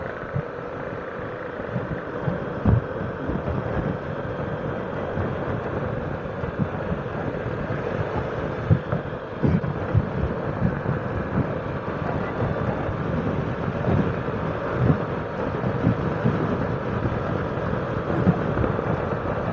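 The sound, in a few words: wind while riding on the road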